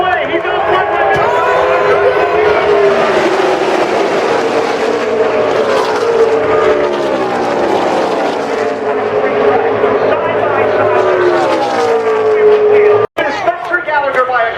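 Stock cars race three wide at Talladega, a loud continuous roar of engines rising and falling in pitch as they sweep past, with a crowd and an excited commentator talking over it throughout.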